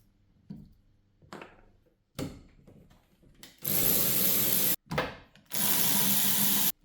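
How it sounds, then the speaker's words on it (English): A ratchet works a 14mm bolt holding a wiper arm on a Honda Jazz/Fit GE. A few scattered knocks and clicks come first, then two long, loud bursts of rapid ratcheting close up, with a short pause between them. "To get these wiper arms off, you just take these little rubber covers off, and then you can get to a"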